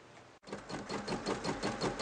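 Embroidery machine stitching a colour stop on an in-the-hoop project with batting and fabric in the hoop, a close, steady rapid mechanical whirr with rhythmic pulsing after a brief start pause.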